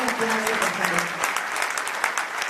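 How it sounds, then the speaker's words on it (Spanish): An audience breaks into warm applause, brisk clapping from many hands with a faint voice fading out at the start. "Fuerte aplauso, por favor."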